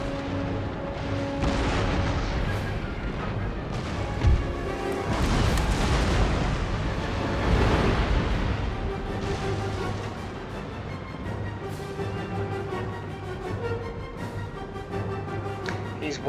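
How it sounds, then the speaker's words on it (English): Cannon and volley fire on a battlefield in Empire: Total War, with booming shots rolling over continuous battle ambience and music, the heaviest blasts clustered early and fading into steady background rumble. "just fire your 1 cannon"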